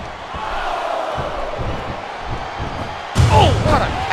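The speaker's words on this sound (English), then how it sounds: "Oh, what a tackle. Knocking the opponent down." Body slam impact in the Smackdown vs. Raw 2009 wrestling video game: a sharp thud and crash near the end, following a stretch of crowd noise and game sounds.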